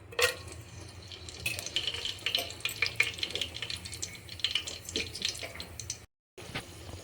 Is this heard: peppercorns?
yes